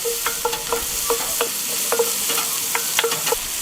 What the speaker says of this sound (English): we're just going to throw in the onions as well as the garlic, give them a bit of a sear